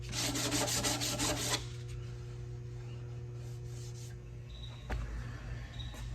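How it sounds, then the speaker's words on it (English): Hand sanding of a wooden hall table in a Scandinavian style, heard as a close rasping rub in quick strokes for about a second and a half, then fading to faint scattered scraping and quiet room noise. "So as you sand, you touch it, you feel it."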